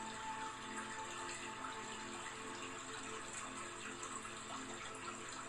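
Steady flowing water from a waterfall, a continuous rushing wash that holds at an even level throughout with no voice over it, setting a calm guided-meditation scene.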